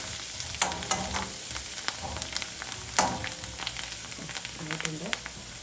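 Ground coconut paste hitting a hot pan for a simple Kerala-style curry, giving a steady mid-level sizzle with clinks and scrapes of stirring, no voices over it.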